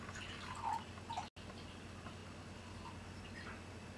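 Echo Falls Merlot red wine poured into a glass, a faint, brief liquid trickle and splash followed by quiet room hiss.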